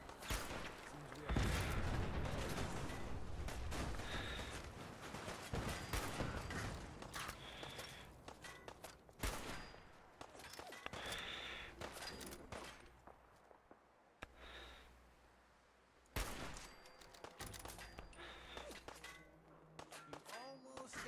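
Sharp gunshots crack in scattered bursts through a Fallout 4 firefight, mixed with metallic clangs and thuds, a voice talking at times between the shots.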